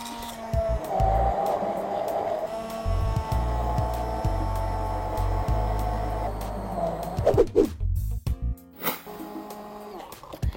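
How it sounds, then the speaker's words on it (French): A hand blender whirs through a parsley and cream sauce, a loud motor drone that holds steady for several seconds, shifts in pitch as it works, then cuts out with a few clunks and a final short burst. "avec notre mixeur, on mixe le tout."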